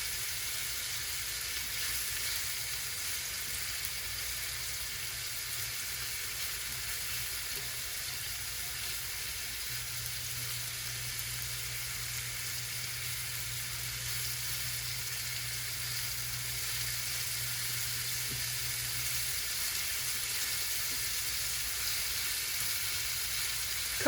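Shrimp frying in a pan for shrimp pasta give a steady, even hiss of sizzling oil throughout, close and moderately loud, with a faint low hum in the middle stretch.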